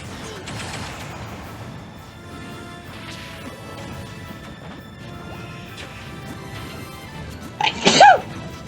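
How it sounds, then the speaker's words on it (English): A single loud, sudden human sneeze bursts out near the end, following a stretch of quiet background hum. "I just let out a huge sneeze"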